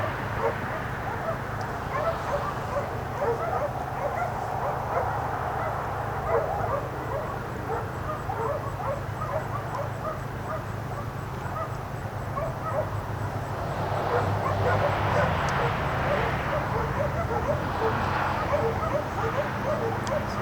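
Several dogs bark and yip at a dog boarding kennel at sunset in Buford, Georgia, heard at a distance as scattered, irregular barks under steady outdoor ambience, with a faint aircraft drone and occasional nearby talk.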